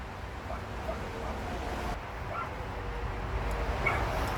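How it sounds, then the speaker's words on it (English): A dog barks a few times in the distance, faint and intermittent over a steady background hiss. "I don't know what the fuck that dumb dog's barking about."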